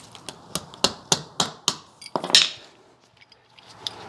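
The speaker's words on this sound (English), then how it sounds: "Just a little tap of the hammer puts that on there pretty easy." A hammer taps a retaining clip onto a Wilwood disc brake kit on a 1970 Ford Mustang, giving about eight sharp, evenly spaced metallic strikes, then a short cluster of hits followed by fainter scattered taps.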